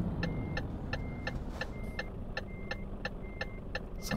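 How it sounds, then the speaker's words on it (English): Regular metallic clanks of truck repair in Euro Truck Simulator 2 multiplayer repeat about every half second, like tools on metal, over a low steady engine-like rumble. "Sounds like someone's repairing their trucks."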